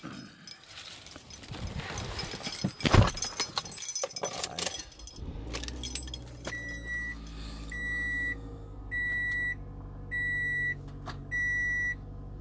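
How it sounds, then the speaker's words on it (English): Keys jangle loudly as someone climbs into a car, followed by a door-ajar chime that beeps in a steady repeating pattern against a low engine-like hum. "let me get in the car real quick"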